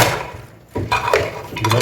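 A spoon or ladle stirs chicken and bottle gourd gravy in a metal pot, giving a few close, irregular scraping clinks and knocks with short pauses between them.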